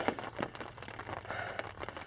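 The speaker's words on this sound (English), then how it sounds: "As you can hear, it's only lightly raining now." Light rain patters on a tent at night on a spring solo trip in the Boundary Waters, a soft, faint, continuous crackle of small drops close overhead.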